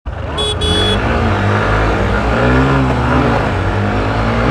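A Honda SP125 motorcycle roars loudly and close during a drag race, engine revving hard and climbing in pitch as it accelerates, with a steady, dense drone throughout.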